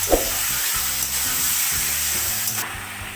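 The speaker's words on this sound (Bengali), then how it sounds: "ভালো করে একটু ভেজে নিতে হবে লোটে মাছগুলোকে" Lote fish fry in hot mustard oil, giving a loud, dense, continuous sizzle close up with brief stirring scrapes and no voices.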